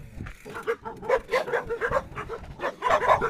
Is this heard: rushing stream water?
no